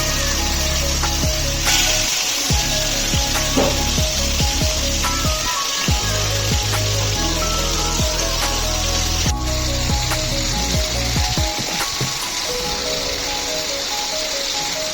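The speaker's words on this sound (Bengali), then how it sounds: "এই মাছ ভাজার শব্দটা শুনতে তো বেশ ভালোই লাগে, কিন্তু ওই তেল যখন ছিটকে আসে তখন একদমই ভালো লাগে না" Pomfret fish frying in hot oil makes a loud, continuous close sizzle with dense crackling and occasional sharp spits, under a faint steady tonal hum.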